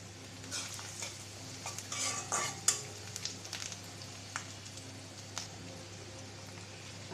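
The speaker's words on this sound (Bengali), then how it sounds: "রসুনটা একটু আগে দিয়ে একটু ভাজা ভাজা করে নিলাম" Chopped garlic fries in oil in a pan with a bay leaf, a faint steady sizzle with scattered small pops and a few light scrapes of a utensil.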